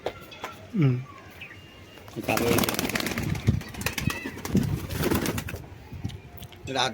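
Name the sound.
pigeons cooing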